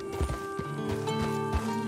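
A horse in the video game Red Dead Redemption 2 clip-clops steadily at a walking pace, hoofbeats close and clear over a soft hum, with a short snort and no speech.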